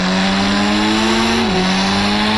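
Bike engine in the mobile game Indian Bike Driving 3D revs steadily and loud throughout, a continuous synthetic motor drone with a brief dip in pitch midway before climbing again.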